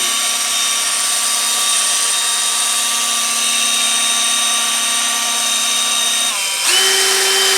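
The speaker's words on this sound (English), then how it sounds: "I've got a little wire brush for a Dremel, and I'm going to go around that groove." A Dremel rotary tool fitted with a small wire brush cleans a groove on an Adwest steering box, a loud close high-pitched whine held steady, then dipping briefly and returning at a higher pitch near the end; no talk.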